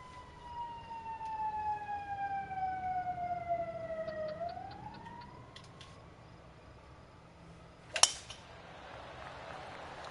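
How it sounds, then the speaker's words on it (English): A distant fire truck or ambulance siren on a main street wails with a slowly falling then rising tone as the vehicle passes, followed by a sharp clink nearby. "a fire truck just went by, or ambulance"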